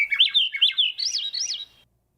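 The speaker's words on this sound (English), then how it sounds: "It's called the Swainson thrush. And it sounds like this." Swainson's thrush song up close: a clear run of rising, spiraling flute-like phrases, repeated several times over about two seconds and ending abruptly in silence.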